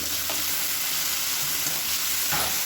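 Onion and tomato sauté in a pan for sambar with a loud, continuous sizzle up close, and a few soft stirring scrapes come through it. No one speaks.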